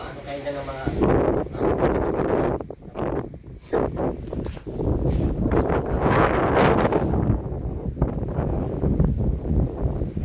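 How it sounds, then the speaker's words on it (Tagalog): Strong gusts of wind buffet the microphone in loud, rumbling bursts, with voices talking underneath. "Hangin oh."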